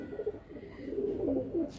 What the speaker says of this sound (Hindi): ये मेरे मद्रासी कबूतर है